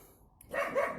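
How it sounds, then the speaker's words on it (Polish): A dog gives a single faint, distant bark near a pepper greenhouse, rising briefly out of quiet outdoor background. "pies mi tu przeszkadza, przepraszam za hałas"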